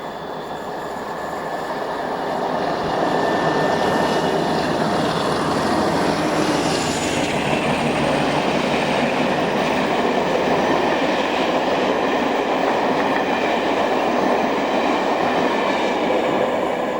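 Cross-country train on the Brighton to Edinburgh service hauled by locomotive 47826, a loud engine roar that swells over the first few seconds, then holds steady and close as it passes.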